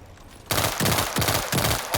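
Rapid pistol fire in the video game World War 3, loud close bursts of several quick shots in a steady rhythm, starting abruptly after a brief quiet moment.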